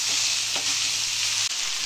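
Fried rice with coconut and chili flakes being stirred in a hot pan, a loud continuous sizzle with scraping strokes and a brief break near the end.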